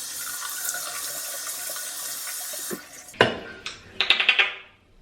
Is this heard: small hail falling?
no